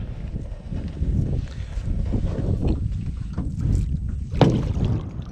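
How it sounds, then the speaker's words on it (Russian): Steady wind noise rushing over open water during a fishing longline check, with low buffeting rumble throughout and a brief sharper gust-like burst near the end. "Опять поднимается ветер."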